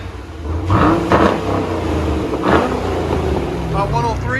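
A Chevy Camaro SS with a 6.2L V8 and long tube headers rumbles and revs in a couple of short bursts, with people talking over the deep exhaust.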